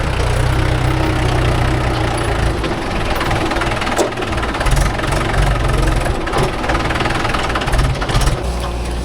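A tractor's heavy diesel engine chugging steadily while lake soil is loaded by a JCB 3DX backhoe, a loud, close, continuous low throb with knocking texture and occasional clanks.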